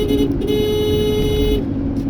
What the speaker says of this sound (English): Horn's still working, that's a good thing.